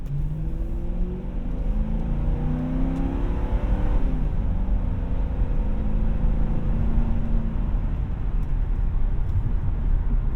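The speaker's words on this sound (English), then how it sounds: "I love the sound of this V8 so much." A 1999 Ford Crown Victoria LX V8 pulls under light throttle, a smooth steady engine drone with rising harmonics heard from inside the cabin, continuous and fairly loud throughout.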